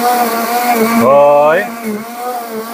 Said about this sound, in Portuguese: Ligamos aqui o liquidificador.